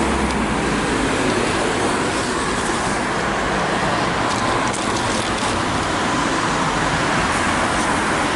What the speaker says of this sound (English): Traffic is as usual on the road.